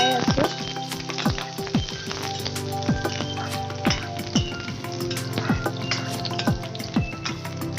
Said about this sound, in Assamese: তাৰপিছত তেলখিনি গৰম হোৱাত পিঁয়াজ আৰু জলকীয়াখিনি মই দি দিছোঁ। দি কিছু সময় এইদৰে লৰাই আছোঁ।